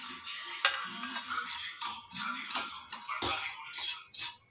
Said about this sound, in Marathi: आता 2 चमचे खसखस थोडीशी भाजून घ्यायची.